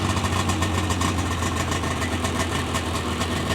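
A small pull-start engine, started at half choke in warm weather, runs steadily at idle with a continuous low throbbing vibration, close and loud, with no talk over it.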